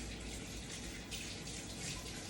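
Tap water runs steadily while hands are washed under it, a constant close splashing rush with small shifts in texture and no voices.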